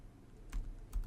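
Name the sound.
typing an Ansible playbook command on a computer keyboard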